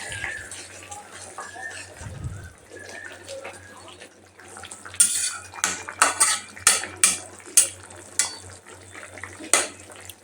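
A spoon scrapes and clatters against a pan while koi fish curry with potatoes is stirred, with a burst of sharp metallic knocks in the second half and soft speech underneath earlier.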